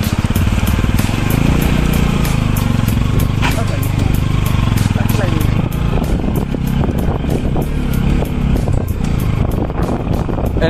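Bajaj Pulsar NS motorcycle riding off road on a route from Rakam Karnali to Surkhet, its engine droning steadily and loudly throughout with rough, rumbling texture, while people talk over it.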